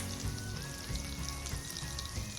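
Unsalted butter melts and sizzles in a hot pan for blackened shrimp pasta, a close, continuous crackling fizz with fine popping and no voices.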